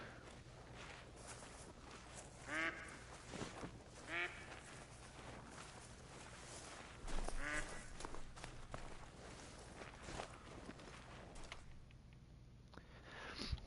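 Ducks quacking in theHunter: Call of the Wild, several separate bursts of quacks spread across the stretch, some near and fairly loud, over continuous footsteps and rustling outdoor ambience.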